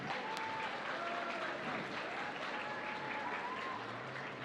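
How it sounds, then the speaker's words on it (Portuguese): A crowd at a large gaming event in Brazil gives a steady round of applause, dense continuous clapping heard from a distance, fairly quiet, with faint voices and whistles mixed in. "Uma salva de palmas, gente!"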